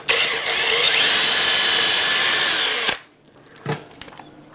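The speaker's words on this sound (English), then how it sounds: "So I'm gonna drill my hole" A power drill whines loudly and steadily for about three seconds with a long bit, boring through a roof, then stops, followed by a few faint knocks and rustles.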